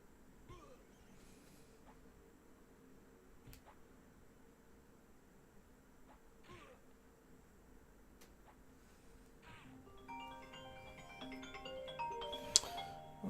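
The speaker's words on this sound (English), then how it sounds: "I got a phone call." A phone ringtone rising near the end of a quiet stretch of EverQuest game audio, a melodic electronic ring that grows louder over the last few seconds.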